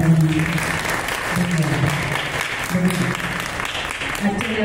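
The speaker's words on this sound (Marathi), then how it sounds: "सर्व साथ संगतीसाठी जोरदार टाळ्या." An audience at a classical vocal concert applauds the accompanying musicians with a sustained, fairly loud burst of clapping, while a voice speaks over it in places.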